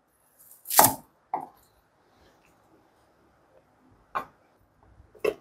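Knife strikes through a peeled onion on a cutting board during Chinese cookery certification practice, a few sharp, separate chops spaced apart with quiet gaps between them.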